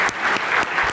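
Audience applause for the panelists at a political journalism event, a brief burst of dense, even clapping from a seated crowd.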